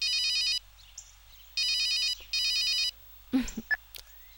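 A telephone rings in three electronic trilling bursts with pauses between, fairly loud indoors, followed by a brief clatter as it is picked up.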